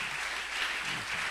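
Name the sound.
congregation applauding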